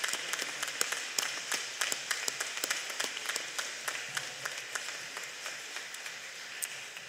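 A graduation ceremony audience at Penn State Wilkes-Barre applauds, with sustained, even clapping from a large crowd heard at a distance, gradually thinning toward the end.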